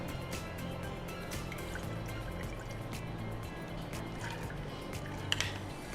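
Water is poured into a pressure cooker holding soaked toor dal, making a steady, faint trickle and splash that runs for several seconds with small drips.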